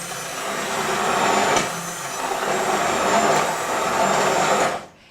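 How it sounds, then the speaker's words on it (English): An immersion blender purees roasted tomato soup in a pot, a steady loud motor whir with slight surges, running alone for about five seconds before cutting off abruptly. "I'm going to use an immersion blender to puree my soup very carefully"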